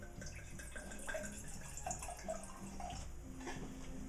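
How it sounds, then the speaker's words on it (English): White wine, a 2010 Italian-variety bottle from California, pours into a glass in a quiet room: a soft, steady liquid gurgle with small splashy bubbles, continuous for a few seconds. "Let's give it a pour."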